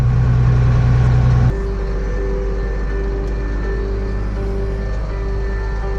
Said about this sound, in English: Dad's running the packer tractor now.